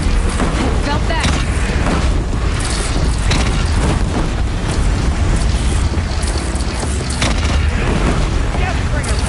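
A Deathbringer machine in Horizon Zero Dawn fires explosive artillery, producing a constant, loud barrage of booming blasts and heavy rumbling mechanical noise throughout.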